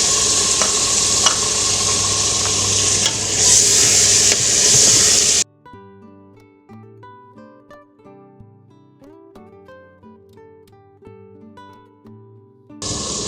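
Ginger garlic paste and tomatoes hit a hot pan and sizzle loudly for about five seconds, with stirring, before the frying drops out and soft background music takes over, the sizzle briefly returning at the end.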